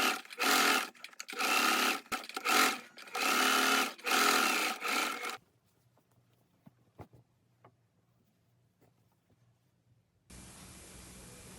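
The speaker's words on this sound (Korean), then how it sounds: "다림질을 한 후에 시접은 앞쪽으로 접어서 앞쪽에서 탑 스티치를 한 번 더 겉면에서 해줍니다." A sewing machine top-stitches a seam on a sweat hooded jacket, running loud and close in several bursts with short pauses, then falls quiet, leaving light clicks and handling before a steady hiss comes in.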